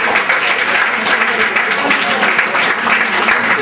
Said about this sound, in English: Guys, clapping please.